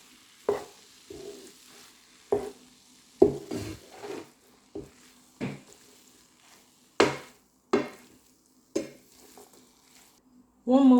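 Cauliflower fried rice vegetables with bell pepper and mushroom are stirred in a pan, a series of distinct scraping and clinking strokes in irregular rhythm over a faint sizzle, fairly close and moderately loud.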